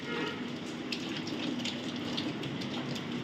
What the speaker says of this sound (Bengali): আমি হাতটা ধুয়ে নিই